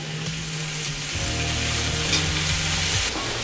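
Yellow squash and minced garlic sizzle in a hot pan, a steady close frying hiss with faint stirring scrapes and no voices.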